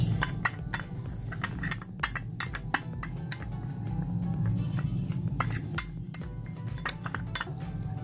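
A spoon clinks repeatedly against a bowl while stirring wheat flour, brown sugar and glycerin into a paste, giving an uneven run of sharp metallic taps over a low background hum, with no talking.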